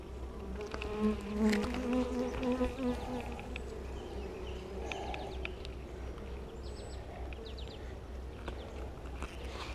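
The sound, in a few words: honey bees buzzing at hive inspection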